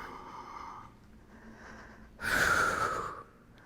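Loud, forceful breath, likely an exhale, during a suspended AntiGravity fitness exercise, following a quieter breathy stretch; a single heavy burst lasting about a second.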